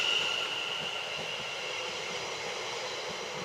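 A South Western Railway class 701 electric train departs Guildford station, a quiet, steady rolling rumble heard from the platform with a faint high whine over it.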